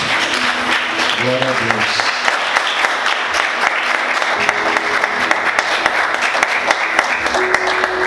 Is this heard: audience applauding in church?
yes